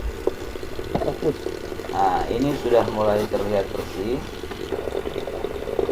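Tap water pours steadily to rinse sand in an aquarium, a continuous splashing and gurgling stream with a person speaking over it.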